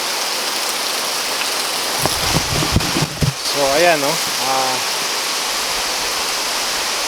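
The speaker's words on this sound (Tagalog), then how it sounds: "Presko tsaka maingay yung yero kasi ano lang to eh." Steady rain drums on a corrugated metal roof throughout, a dense hiss with a brief burst of talk in the middle.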